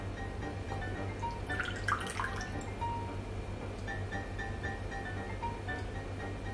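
Vinegar pours into a bowl in a short trickling, dripping burst near the start, with a few light drips after, over a steady low background hum.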